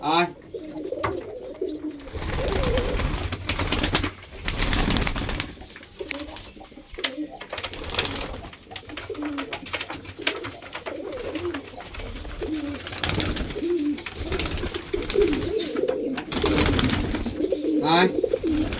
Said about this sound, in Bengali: দেখুন গাইস, পায়রাগুলো কত হেলদি খাচ্ছে